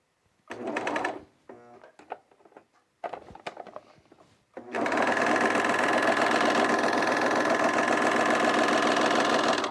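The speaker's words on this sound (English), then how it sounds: "I calibrated my serger to be really good on one layer of this linen too" A serger sewing machine runs steadily, stitching a single layer of linen, after a few brief start-and-stop bursts; a continuous, close mechanical whir fills the second half with no talking.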